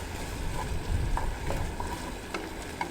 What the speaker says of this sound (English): So let that water cook out for a little bit.